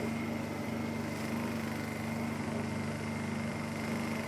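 A Honda EU2000 generator running after a carburetor repair, a steady close engine drone with a slightly uneven buzz, continuous throughout with no speech.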